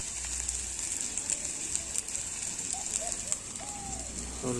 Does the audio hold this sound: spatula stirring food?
yes